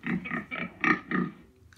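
A pig's oinks played back by Google Assistant on a smart device: five quick, nasal grunts in a steady rhythm, close and clear, ending in a short pause.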